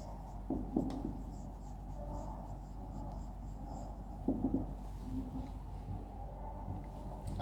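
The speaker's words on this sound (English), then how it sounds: "I am just writing that answer on the board." Chalk or marker writing an answer on a classroom board, soft scratchy strokes in two short bursts over a low background hum, quiet and close.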